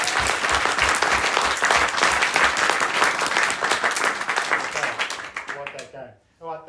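An improv show audience breaks into loud, dense applause that holds steady for several seconds, then thins out and fades, with a voice starting to speak as the clapping dies away.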